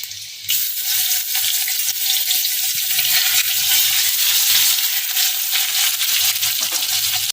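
Chopped garlic and ginger paste sizzle steadily in hot oil in a pan for chilli chicken, a loud continuous fry that starts abruptly and holds with light crackle throughout.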